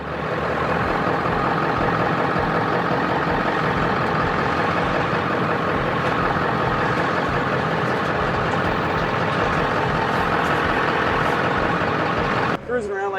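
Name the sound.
1972 Ford F100 truck engine running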